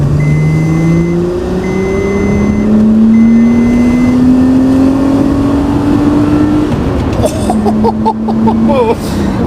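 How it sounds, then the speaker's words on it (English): A 1990s Audi Coupe engine revs and climbs steadily in pitch, then drops as it shifts down to second and revs again with a throaty, up-close roar, with voices faint beneath. "I love the sound of this car produces"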